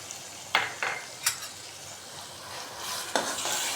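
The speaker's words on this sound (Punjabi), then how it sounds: "ਇਹ ਆਪਣੇ ਭੁੱਜ ਗਏ ਨੇ ਤੇ ਹੁਣ ਆਪਾਂ ਪਾ ਦਿਆਂਗੇ ਇਹ ਵਾਲਾ ਮਸਾਲਾ" Masala being stirred into pan-roasted vegetables for poha, with a few distinct scraping strokes of a spoon against the pan over a faint steady sizzle, close and alone without talk.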